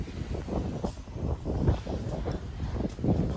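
Wind buffets the microphone at the historic port of Monopoli, an Italian seaside town: a steady, close, rumbling gust with uneven surges and no speech.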